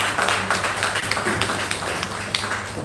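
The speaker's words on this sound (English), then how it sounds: "applause" An audience at a civic engagement event applauds, a steady wash of many hands clapping at moderate loudness with scattered sharper claps.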